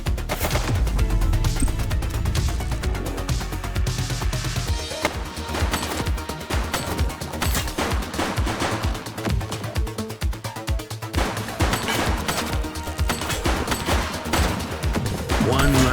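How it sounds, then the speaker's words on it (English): Gunfire in the police video game The Precinct, a loud, dense stream of rapid shots and bursts layered over game music and effects, continuing without pause. "He's shooting!"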